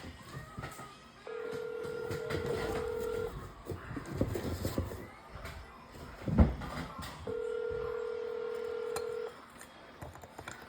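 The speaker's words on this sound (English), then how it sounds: "I'm calling the jail right now, and they're ignoring my phone call." An outgoing phone call to a jail rings out: two long, steady ringback tones about two seconds each, separated by a pause, over low background noise with a single thump between them.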